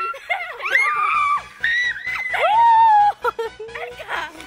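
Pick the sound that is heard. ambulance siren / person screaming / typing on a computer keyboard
person screaming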